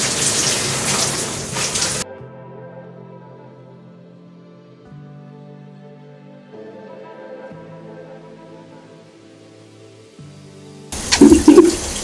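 Shower water rushes loudly in a home bathroom, a dense hiss at the start that drops away to a quiet stretch before the heavy spray returns near the end.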